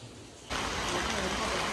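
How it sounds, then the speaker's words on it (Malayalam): After a brief quiet moment, a steady hiss of monsoon rain in Kerala suddenly rises and continues loudly for about a second. "നല്ല മഴയാണ്, എല്ലാവരും വെയിറ്റ് ചെയ്യാണ്"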